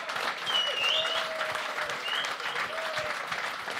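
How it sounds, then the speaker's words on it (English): Applause from a crowd in a bar at a live Gaelic football preview show, a continuous mid-level patter of clapping with a few faint whistles rising over it. "So give a round of applause."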